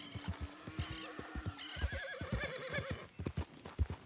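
A horse in the video game Red Dead Redemption 2 whinnies loudly over steady clip-clopping hooves, with a second neigh following partway through, fairly close and clear.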